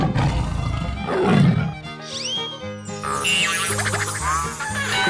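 A tiger roars in a 3D animal slide video game, a loud, close growling roar that swells and then gives way to bouncy game music and playful sound effects.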